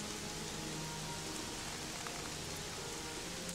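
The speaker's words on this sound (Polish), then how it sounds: "Najgorsze jest to, że pada deszcz." Steady rainfall hiss with soft patter throughout in the video game Gothic 3, a continuous even wash of sound with no voices.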